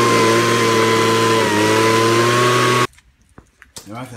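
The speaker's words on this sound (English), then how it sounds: "the Ryobi gas powered leaf blower, this is the standard format that most people will be using it in" A Ryobi gas-powered leaf blower runs loud and steady with a constant engine drone for nearly three seconds, then cuts off abruptly, leaving faint handling noises and brief quiet sounds.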